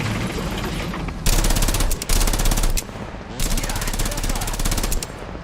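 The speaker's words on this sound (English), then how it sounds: "New sounds for the MG3." MG3 machine gun firing in a vehicle combat game, with loud rapid bursts of automatic fire in two long strings and short pauses between them, close and dominant.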